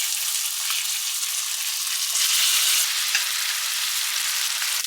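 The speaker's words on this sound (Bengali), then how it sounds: "কিন্তু লো ফ্লেমে চিকেনগুলো ফ্রাই করবো।" Chicken pieces fry over a low flame in ghee and sunflower oil, giving a steady, close, even sizzle that holds across the whole stretch with no talking.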